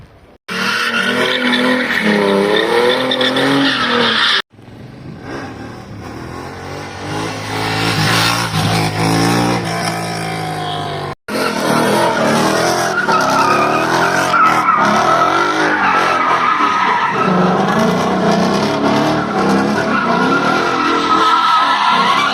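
Ford Mustang driving hard in Georgia, with loud, close engine revving, rising and falling acceleration, and squealing, skidding tires, broken by two brief dropouts.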